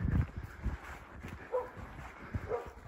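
Several short barks and yips from hunting dogs on a pig hunt in New Zealand come in scattered bursts, some nearby and some farther off, over rustling outdoor background.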